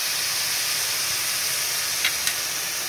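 Finely chopped onion hits hot oil in a pan while a spicy prawn masala is prepared, producing a loud, even hiss of frying that holds steady with a couple of faint pops.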